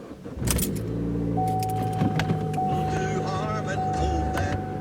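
A car engine started on a morning drive to work, the motor cranking and catching into a steady idle, with keys jangling and faint clicks nearby.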